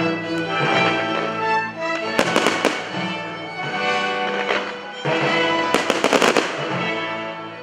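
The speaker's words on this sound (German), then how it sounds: "Passend dazu wurden die musikalischen Klänge durch ein nicht enden wollendes Feuerwerk verziert." Fireworks at a town festival weekend in Brandis, set to Handel's Music for the Royal Fireworks, with sharp clustered bangs bursting over loud continuous orchestral music.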